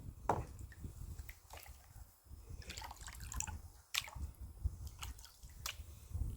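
A gold pan shaken and tipped in water to wash off light material, giving soft irregular sloshing, drips and gritty swishes, faint and close with no voices.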